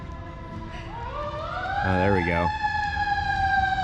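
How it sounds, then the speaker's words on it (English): A fire engine siren wails past, its rising and falling tone sweeping close by over a rumbling truck engine, with a brief low horn blast midway; a person speaks briefly. "And one more fire engine"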